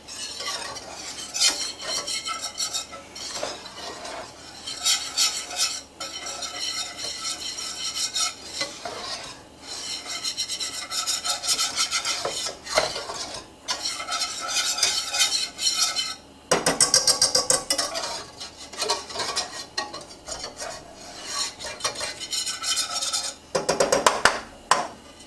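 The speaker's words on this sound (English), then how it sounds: "So once the butter melts, I have 3 tablespoons of flour to add." Three tablespoons of flour stirred into melted butter in a pot, with a utensil scraping and clattering against the metal in busy bursts of stirring, close and fairly loud.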